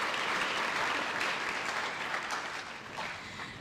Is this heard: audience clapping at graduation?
yes